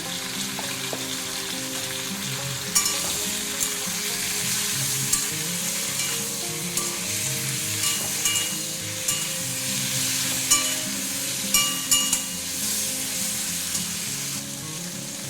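Small fish frying in oil with salt and turmeric, a loud, continuous close sizzle with occasional soft stirring knocks throughout.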